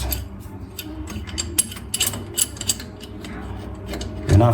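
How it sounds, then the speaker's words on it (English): An adjustable wrench tightens a flex tube fitting beneath a vanity basin during a bathroom installation, giving close, irregular metallic clicks and ratcheting scrapes with no talking. "Alright, then we use our adjustable to secure it in place."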